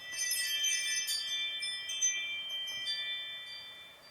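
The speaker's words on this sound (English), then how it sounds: "that's my ring doorbell dinging away" A Ring doorbell chiming indoors in the UK: a bright, repeated electronic ding ringing over and over and fading away, heard alone without talk.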